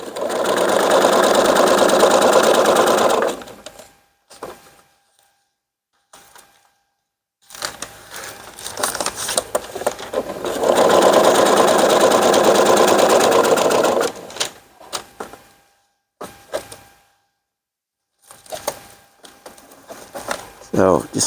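A sewing machine stitches ripstop fabric in fast, steady bursts, starting and stopping several times, loud and close, with quiet pauses between runs.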